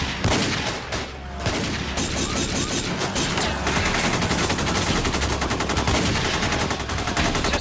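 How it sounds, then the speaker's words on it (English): Gunfire in a movie shootout, dense rapid bursts of shots and automatic fire running continuously and loud throughout, with no talking. "Shots are firing everywhere"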